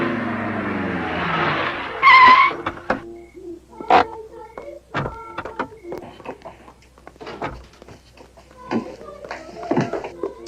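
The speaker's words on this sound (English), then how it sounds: "Oh, there's Felix Sauner's Porsche." Felix Sauner's Porsche pulls up outside in 1972 Salzburg, a short burst of car noise with tire sounds among scattered knocks and movement, with some voices around it.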